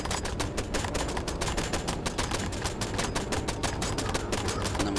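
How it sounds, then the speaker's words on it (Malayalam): Rapid automatic gunfire from a weapon in a horror spider video game, a dense, loud, evenly spaced burst of shots running continuously throughout with no talking. "നമ്മൾ വെടിവെച്ചുകൊണ്ടിരുന്നു."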